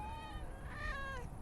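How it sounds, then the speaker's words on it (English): A female cat meows nearby, one drawn-out, faint, rising-then-falling cry under low background noise. "Can you hear her meows?"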